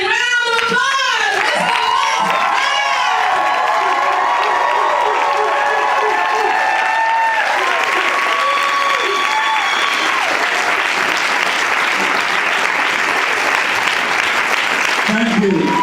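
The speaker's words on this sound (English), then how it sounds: "Ladies and gentlemen, round of applause!" A large crowd at a live motivational speaking event gives loud, sustained applause and cheering for the whole stretch, with shrill whoops and voices calling out over the dense clapping.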